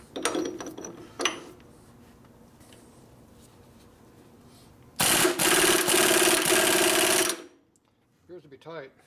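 Ratchet wrench tightening a bolt during a Harley-Davidson Panhead FL/FLH rebuild: a few sparse clicks first, then a loud, steady burst of rapid ratcheting for about two seconds, with quiet voice-like sounds near the end.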